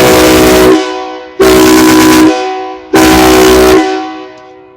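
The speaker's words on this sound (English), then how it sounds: "And this big switch is the big horn, the train horn." Train horn fitted to a 2000 Honda Accord blasts three loud, long chords at close range, each cut off and followed by a short pause before the next.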